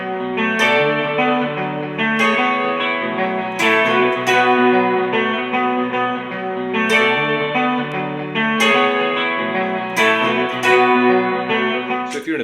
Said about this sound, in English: if I put the riff on, the main riff from a looper, and play over it, it's going to sound like this.